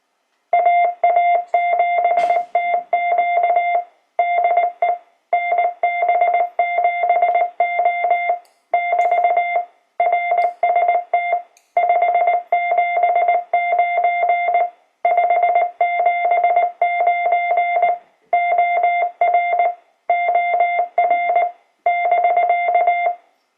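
Morse code keyed by AC Log logging software sends a call sign as a single steady tone, broken into rapid dits and dahs in repeated bursts with short gaps, loud and close, with no voices.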